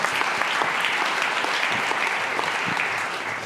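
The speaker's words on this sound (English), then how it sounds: "Let's give them a round of applause" A conference audience at a horticulture event gives a steady, dense round of applause for panelists, close and even throughout, easing slightly toward the end.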